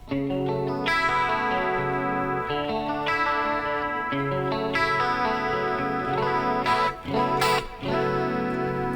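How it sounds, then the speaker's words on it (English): An electric guitar through a Line 6 POD Go chorus effect plays sustained chords and notes, the shimmering, wavering doubled tone filling the clip without any talking. "And I can add a chorus."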